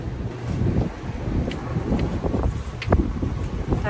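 Gusty wind blusters across the microphone outdoors beside a camper on a windy day, a continuous low rumble with occasional faint rustles and knocks.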